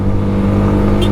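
A 2023 Yamaha FZ-X 150cc motorcycle engine pulls hard under acceleration, a loud, close, steady engine drone over a short burst.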